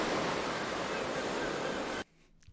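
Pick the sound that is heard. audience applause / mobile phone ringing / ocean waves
ocean waves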